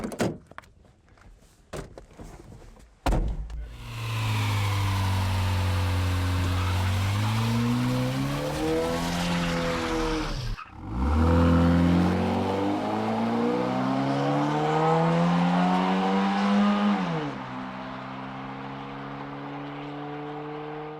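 A mostly stock Honda bracket race car launches down a drag strip after a few thunks, its engine revving up hard, shifting once, then climbing again and fading off.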